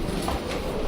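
A Madrid metro train rumbles loudly and steadily, a brief burst of continuous rail noise with no talking.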